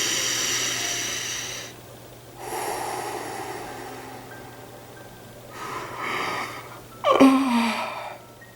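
Slow, deep breathing during a guided meditation exercise for calming an agitated mind: long, close inhales and exhales through the nose, with a sharp snort-like breath near the end and no speech.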